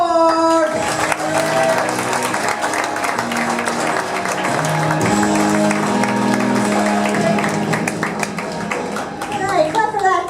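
Applause from a comedy club audience as a comedian is introduced, a steady wash of clapping and crowd noise lasting throughout, with a voice talking over it.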